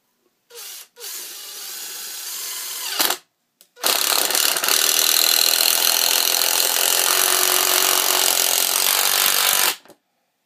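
A Makita LXDT06 cordless impact driver drives a 3-inch screw into wood, with two short bursts of rapid hammering followed by a long, loud sustained run that stops abruptly.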